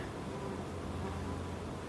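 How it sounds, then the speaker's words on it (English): Honeybees buzz steadily around a sugar spray bottle, a continuous close insect drone with no talking. "There's bees. They can smell the sugar, and there must be just a little bit on it, and they are looking for it."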